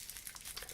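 Paper wrapper from a Godiva Double Chocolate Dome crinkles and rustles briefly up close, a short burst of soft crackling.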